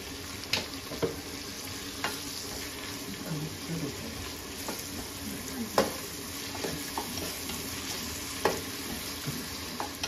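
Onions softening in a pan over the heat, lightly salted, with a steady low sizzle and intermittent scraping stirs, close and moderately quiet, no talk.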